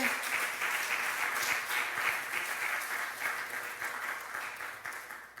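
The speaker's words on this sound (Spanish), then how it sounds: "Démosle un aplauso al Señor de alabanza por este gran hombre." Sustained applause from a church congregation, a dense, even wash of clapping that holds steady and slowly tapers off at the end.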